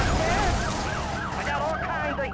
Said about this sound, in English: there's a police car who's trying to kill me right now